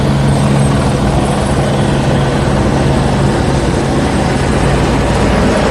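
A loud, steady helicopter roar with a low rotor thrum fills the scene continuously, close and overhead, without letting up, during street unrest in Los Angeles.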